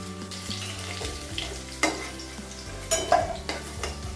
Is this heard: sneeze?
no